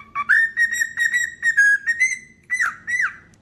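A pet parrot gives a run of bright, clear whistled chirps, close and loud. The short calls come in quick succession and some rise or sweep, with no talking.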